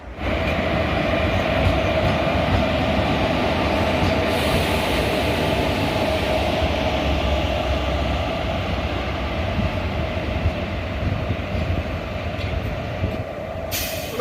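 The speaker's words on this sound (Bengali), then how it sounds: "বন্ধুরা পাহাড়িয়া ফাইনালি চলে এসছে আমাদের দু ঘন্টার দেরিতে নবদ্বীপের দু নম্বর প্ল্যাটফর্মে" Paharia Express pulling into platform two at Nabadwip, hauled by a WP4 locomotive: a loud, steady rumble of rolling stock fills the whole stretch without a break, with no voices over it.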